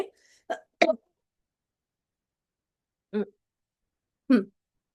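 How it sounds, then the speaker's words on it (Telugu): A few short, dry coughs, two close together at first, then two more spaced out after a pause, with silence between. "దగ్గుంది"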